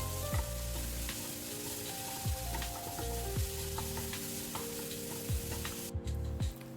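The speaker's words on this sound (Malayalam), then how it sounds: "ഇവിടെ നന്നായിട്ടൊന്ന് വഴറ്റി കൊടുക്കാം." Onion masala sautéing with turmeric in a pan for chicken rolls gives a steady close sizzle and frying hiss, with repeated scraping stirs and light clinks throughout.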